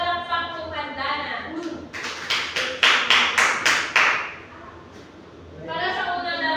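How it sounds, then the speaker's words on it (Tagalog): Classroom of students clapping together in a burst of about seven sharp, loud claps, framed by a voice speaking before and after. "Pumalakpak kung handa na."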